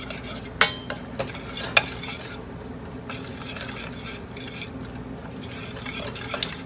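Pork belly red curry being stir-fried in a deep pot: continuous scraping and stirring with a couple of sharp utensil clinks against the pot over a soft sizzle.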